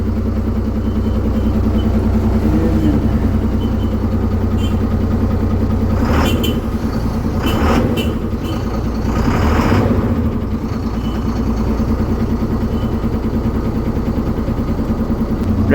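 BS6 ordinary bus diesel engine idling, a steady mid-pitched rumble with a few brief rattling bursts partway through, close by and without talk.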